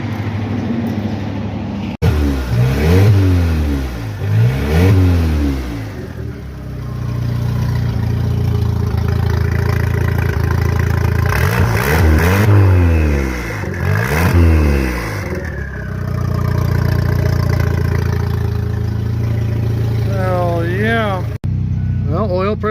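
Drag car engine idling with a lumpy, steady burble, then revved up repeatedly in swelling bursts that rise and fall, loud and close, with someone talking between the revs.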